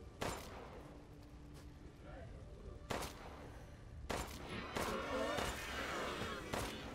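Gunshots in Resident Evil Village: Shadow of Rose ring out as several sharp, separate bangs with short echoing tails, spread irregularly over a low background and fairly quiet overall.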